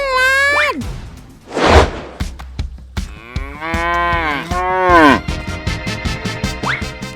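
A dairy cow moos several times, loud and close, in long drawn-out calls with rising and falling pitch, interspersed with breathy whooshing exhales outdoors on a farm.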